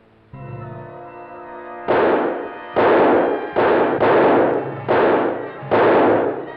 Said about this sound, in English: Shoot him, Davis, shoot!